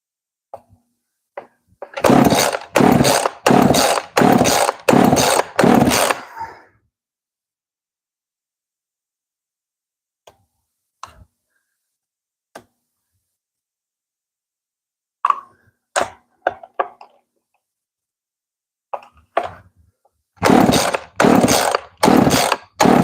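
A 440 engine in a shop sputters to life after a squirt of fuel, firing in short bursts of loud rhythmic pulses separated by silence and a few isolated pops before it catches again.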